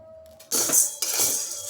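Sabudana (sago pearls) frying on low flame in a pan until they puff up gives a brief burst of sizzling hiss, with a light clink of a utensil stirring against the pan in two short surges.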